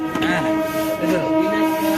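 A passing train sounds as a loud, sustained, droning tone that holds steady for the whole stretch, with faint voices underneath.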